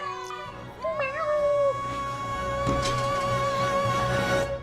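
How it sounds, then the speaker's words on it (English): A Persian cat gives a couple of loud, close meows, the second long and drawn out, with a soft voice speaking in the background. "her repeat customer, Spicy Mayonnaise, the Persian cat"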